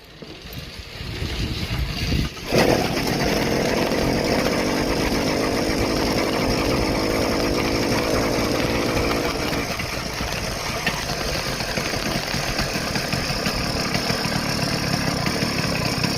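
A motorized bicycle engine starts at about two seconds and runs steadily at a loud, buzzing idle with strong vibration for the rest of the clip, alone and close by.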